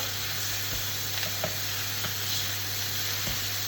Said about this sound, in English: I've got my pan on, it's red hot. Let's get these patties on.